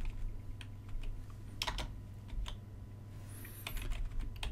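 Quick typing on a computer keyboard as place names are entered into a chat window, close, light clicking bursts in uneven runs, no voices.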